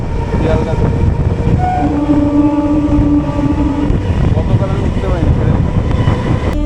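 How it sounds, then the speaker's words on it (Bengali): A crowded Sealdah to Namkhana local train rolls along with a loud, continuous rumble and rattle. A sustained horn tone sounds in the middle, and crowd voices murmur underneath. "এবার যাদবপুরের দিকে ট্রেনটা এগোচ্ছে"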